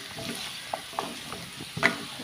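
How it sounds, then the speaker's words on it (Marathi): Vegetables with carrot for a white kurma are stirred in a pan, a soft continuous sizzle with a few light scrapes and taps of the spoon. "आनी आतां तेंकां बरी करून मिक्स करता"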